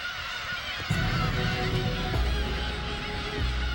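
Black-tailed gulls call from a colony as their month-old chicks begin flight training, giving honking, goose-like cries that repeat over a steady wind-and-surf wash at moderate distance.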